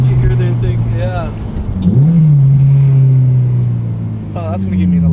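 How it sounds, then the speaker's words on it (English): An 8th-generation Honda Civic Si engine with a Hybrid Racing cold air intake revs and drones nearby, pitch rising and settling with an intake whoosh, while people talk over it. "you can actually hear the intake"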